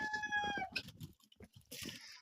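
A hen gives a few short, faint clucks and throaty calls as eggs are tucked beneath her, with soft rustling and handling noises nearby, quiet and close.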